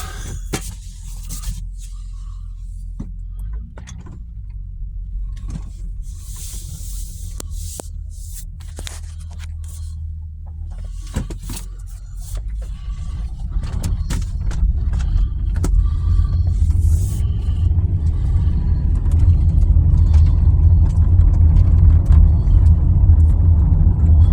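A 2003 Toyota Sienna van with catalytic converter work pulls away and drives, clicks and small scrapes at first, then a rising low engine and road rumble that grows steady and louder.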